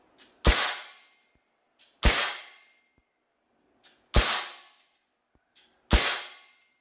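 Four sharp shots from a Swiss Arms SA P92 CO2 air pistol, each a crisp snap with a short decaying ring, spaced evenly about every one and a half seconds, with a small click before each shot.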